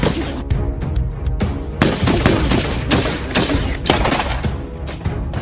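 Loud, continuous gunfire fills a staged war drama scene, with rapid bursts and sharp repeated shots piling on top of each other close by, no talk heard over the firing.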